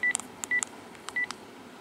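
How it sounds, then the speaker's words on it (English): Touch-tone telephone keypad dialing a cabin phone: three short, clear dual-tone beeps in an irregular rhythm with brief pauses between them, plus faint clicks, alone in a quiet room. "now let's go ahead and call up the phone real quick."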